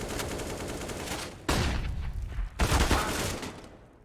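Dense bursts of Counter-Strike gunfire during a Navi versus Gambit match at the StarLadder CIS RMR 2021, with rapid overlapping shots and two sharp louder volleys partway through.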